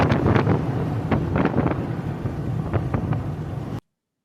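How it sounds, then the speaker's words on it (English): Loud wind buffeting a microphone, heavy low rumbling gusts with sharp bursts, continuous until it cuts off abruptly. "It's probably pretty windy."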